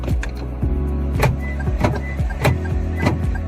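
Smart key programming chime inside a 2023 Toyota Yaris: a few short, faint electronic beeps ring out among repeated clicks and a low cabin hum.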